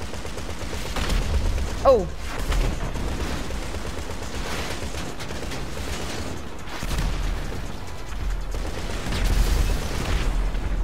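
Sustained gunfire rattles on a vehicle during a GTA 5 Online match, a dense continuous fusillade with a few louder booms and a brief exclamation from a player.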